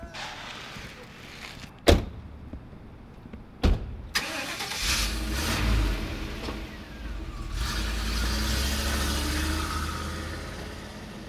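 A car door thuds shut twice, then the engine cranks and catches, settling into a steady low rumble that continues to the end, recorded close by.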